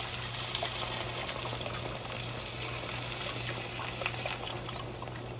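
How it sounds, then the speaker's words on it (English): Beef broth pours steadily into a pot of vegetables that were cooked with tomato paste, giving a continuous close liquid rush and trickle with a faint hum beneath and no talking. "we're going to go ahead and add some beef broth"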